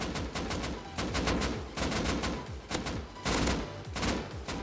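Sustained automatic gunfire in the video game Rust, loud and continuous, with several rapid volleys of shots separated by brief pauses across the whole stretch, alone without talk.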